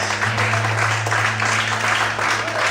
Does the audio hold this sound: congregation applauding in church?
yes